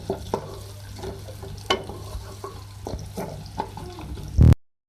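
Soft sizzling of chopped onion frying in oil, with occasional stirring clinks and scrapes, steady throughout and ending in a brief louder clatter.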